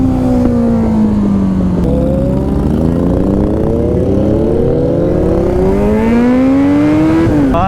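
Superbikes including a Kawasaki ZX-10R and a Suzuki Hayabusa rev loudly at a Chakdah crossroads meetup in Kolkata, with engine tones rising and falling in repeated sweeps as several machines idle and blip their throttles close by.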